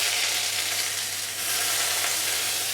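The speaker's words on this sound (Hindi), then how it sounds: "तो तेल हमारा गर्म हो गया है। अब इसमें हम 1 मीडियम साइज का कटा हुआ बारीक चॉप किया हुआ प्याज डालेंगे" Finely chopped onion fries in hot mustard oil, producing a loud, even, unbroken sizzle close up that dips slightly for a moment in the middle.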